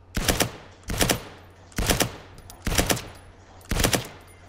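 Five sharp, loud gunshots from a video game ring out alone at a steady pace of roughly one per second, each with a short ringing tail.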